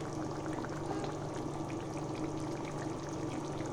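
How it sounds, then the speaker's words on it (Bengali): A little water is poured into a pot of bhetki fish curry with boiled potatoes, heard as a steady, soft gushing that continues without a break. "তো অল্প জল দিচ্ছি। তো এই দেখো দিয়ে দিয়েছি জল।"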